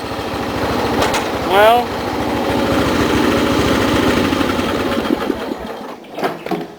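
An old Husky Supreme garden tractor engine runs steadily with a rapid, buzzing putter, close and fairly loud, slowing and fading near the end while someone speaks briefly.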